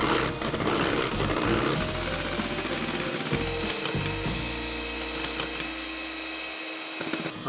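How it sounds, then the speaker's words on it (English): An electric mixer whisking boiled chickpea water into vegan meringue, a continuous whirring motor hum with a rattling mechanical texture, steady and close with no talk. "all I'm gonna do is I'm gonna whisk this for 10 minutes and it's gonna triple its size"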